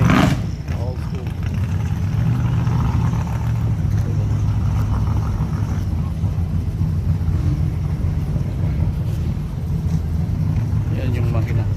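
An old-school customized car engine idles steadily with a low rumble throughout, loud and close, while voices talk over it.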